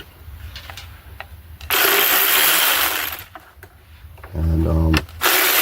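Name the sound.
power tool removing screws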